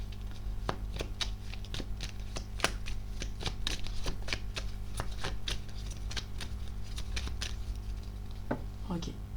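Tarot cards being shuffled by hand, a rapid run of crisp riffling flicks and taps repeating close up for several seconds over a low steady hum.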